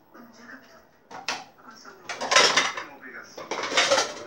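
A metal lid set onto a cooking pot of simmering hot-dog sausages, with several clinking and scraping knocks of metal on metal mixed with kitchen handling, close and fairly loud.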